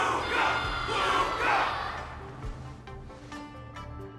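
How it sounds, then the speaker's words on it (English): A crowd in the video game Honkai: Star Rail roars and cheers in a big swelling wave that peaks early, then fades into a quieter murmur with scattered shouts. "Can't you hear? Everyone's cheering for you, Luca!"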